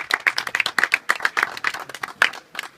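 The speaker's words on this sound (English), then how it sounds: "One final round of applause for all three." A small tour group at the Mystery Spot in Santa Cruz, California claps close by, the individual hand claps crisp and uneven in a brisk, scattered burst.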